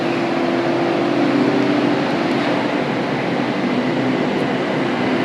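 BTS Skytrain train at Ha Yaek Lat Phrao station in Bangkok, a steady, loud rumble and rolling hum running throughout, with no voices over it.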